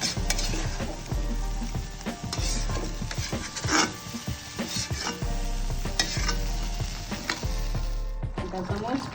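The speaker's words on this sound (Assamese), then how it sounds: "আধা চামুচ ঘি দি দিছোঁ" Ghee sizzles in a pressure cooker while jackfruit curry is cooked at home, a continuous frying crackle with repeated scraping stirs and metallic clinks of a spoon against the pot, close and fairly loud.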